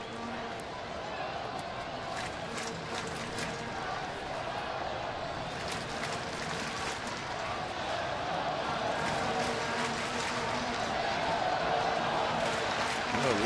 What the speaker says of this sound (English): Let's go Oakland chant early tonight